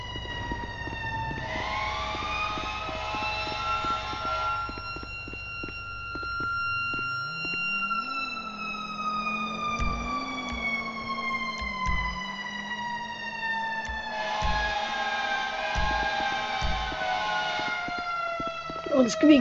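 A fire engine siren in GTA V roleplay wails in long rising and falling sweeps, loud and steady as the engine approaches, with vehicle rumble and a voice talking underneath.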